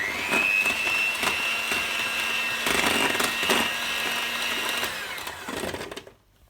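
Electric hand mixer whirring steadily while custard is whisked for a chocolate bread and butter pudding, a loud continuous motor drone punctuated by repeated clicks and knocks of the beaters against the bowl, cutting off at the end.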